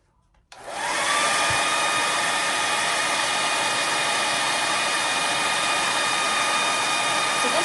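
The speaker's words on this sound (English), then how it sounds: "You're always gonna have to blow it dry in between." Close, loud hair dryer switched on and held at a steady whoosh, blowing ink dry on a painted T-shirt, with a continuous airy roar and no talking.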